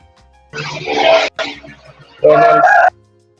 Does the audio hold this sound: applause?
no